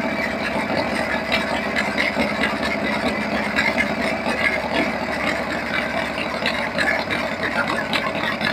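A Harley-Davidson Shovelhead FXE 1200 V-twin with an S&S Super E carburetor idles steadily with a continuous low rumbling lope, close and fairly loud, while someone talks over it.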